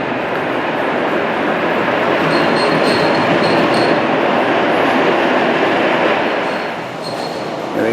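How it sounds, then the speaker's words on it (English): A museum display train rolls around a bend, giving a continuous dense rumble and rattle with faint squealing wheels, loud and steady before easing slightly near the end. "Let's get a shot of the train coming around the bend."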